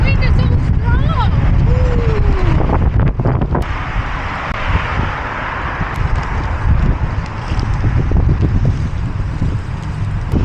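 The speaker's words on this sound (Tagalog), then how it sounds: "The wind is so strong." Strong wind buffets the microphone continuously at a train station in Petah Tikva, Israel, a loud steady roar with gusty swells and faint background noises.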